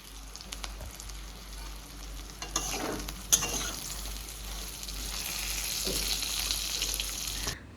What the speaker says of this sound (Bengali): আজকে কিন্তু পটল ভাজা দারুণ হবে বুঝতেই পারছি কারণ সুন্দর মানে ভাজা হচ্ছে তেল মশলা ঢুকছে